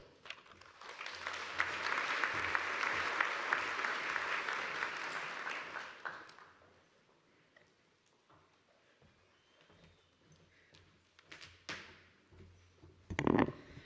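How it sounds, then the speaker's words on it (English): Audience applause at a TeenWorks charity breakfast honoring teens, a dense steady clapping for about six seconds that fades out, followed by scattered faint claps, shuffling and a brief sharp sound near the end. "let's give Esther and all the teens another round of applause"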